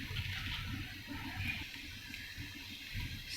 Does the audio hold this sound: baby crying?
no